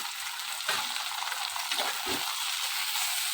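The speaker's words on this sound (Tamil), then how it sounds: "வெங்காயம் பூண்டு கொஞ்சம் வதங்கிடுச்சு" Continuous loud sizzling of onions and garlic sautéing in a hot pan, with a few soft scrapes of stirring breaking the steady hiss.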